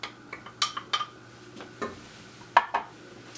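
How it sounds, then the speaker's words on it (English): Spoon stirring tomato sauce into the cooking liquid for Spanish rice in a pot, a few soft scraping and clinking strokes spread out over a few seconds, close and fairly quiet with no talk. "We're gonna mix it around."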